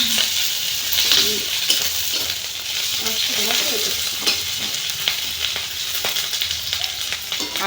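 Chicken frying in a pan, a continuous bright sizzle with stirring scrapes, close and loud, with a faint voice and bird-like coos in the background.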